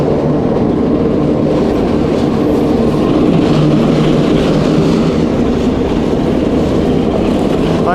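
Railway wagons roll past close by on an industrial line at the Magnezit plant in Satka, a loud, steady rumble of wheels on track with a rough, continuous texture and no voices.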